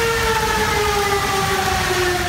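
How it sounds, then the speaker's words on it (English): Flood warning sirens in Texas wail steadily without pause, several rising and falling tones layered over a constant noisy background. "Sirens wail, warning of flood emergencies in Texas."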